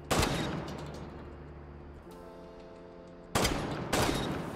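Cav's shotgun fires in Rainbow Six Siege: one loud blast at the start, then after a quieter stretch two more blasts close together, each with a short ringing tail.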